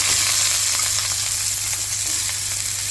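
Small shallots fry in hot fat in a pan for a chicken stew, a dense, continuous, close sizzle at an even, loud level with faint stirring beneath and no voices.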